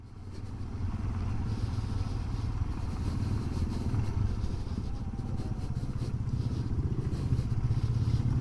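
A Honda CRF 150 dirt bike rides over a rough road, its engine droning steadily with rattling and clattering from the bumpy surface, loud and continuous with no talking.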